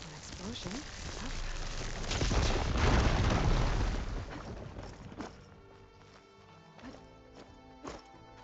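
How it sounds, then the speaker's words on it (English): A broad, rumbling blast swells and fades over a few seconds in Horizon Forbidden West, followed by quieter scattered thuds and game ambience. "An explosion."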